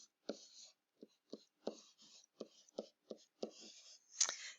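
Pen strokes writing out a math problem on a surface: a quick series of short, close scratching strokes in an uneven rhythm, ending in a sharper tap, with no talking.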